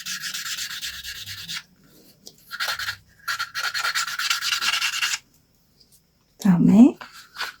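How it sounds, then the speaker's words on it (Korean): Several bursts of dry, gritty rubbing, sandpaper working a leather edge, in uneven strokes with short pauses, close up; a brief low voice sound near the end. "이렇게 한번 사포 작업을 한번 해주시고요."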